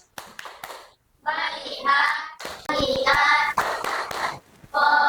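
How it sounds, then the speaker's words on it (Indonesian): A classroom of children performs a patterned clapping routine, with bursts of rhythmic group claps separated by short pauses and some young voices mixed in. "Nah, tepuk fokus."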